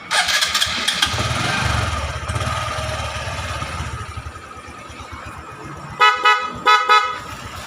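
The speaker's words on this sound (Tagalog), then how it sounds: "Ito yung busina niya. So, kahit hindi umaandar, napakalakas." The horn of a Honda XRM 125 Fi motorcycle, fitted with a relay, honks loudly in several short bursts near the end, after an engine starts and runs roughly at the beginning; the engine is not running during the honks.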